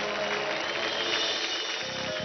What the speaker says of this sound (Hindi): जोरदार तालियां हो जाए, कम ऑन गाइस।